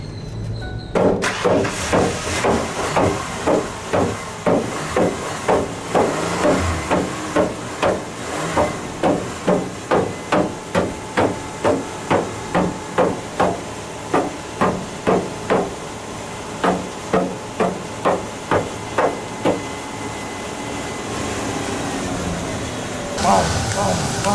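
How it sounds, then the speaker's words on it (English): A rock pounds on metal in a vehicle engine bay, striking about thirty sharp, evenly paced blows, loud and close, with a steady hiss and some voices in the background. "Hit the metal. Rock on metal."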